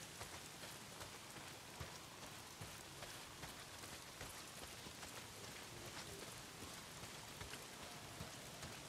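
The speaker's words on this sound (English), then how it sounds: "Well, not if it's pissing down rain." Heavy rain pours down in the video game Days Gone, a dense, continuous hiss of drops pattering on surfaces, loud and steady throughout.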